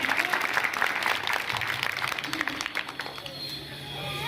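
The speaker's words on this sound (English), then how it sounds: "ladies and gentlemen, have a big round of applause for them" Audience applause at a school annual day function, a steady wash of many hands clapping that holds throughout, with crowd murmur and voices mixed underneath.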